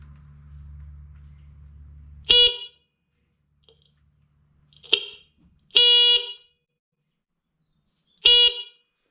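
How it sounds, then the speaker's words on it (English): A 6-volt horn on a Yamaha DT400C motorcycle, wired to 12 volts, gives four short loud beeps in an irregular rhythm, after a low electrical hum and between stretches of near-silence. "That's a 6-volt horn"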